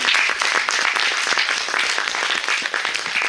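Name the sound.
audience applause after a lecture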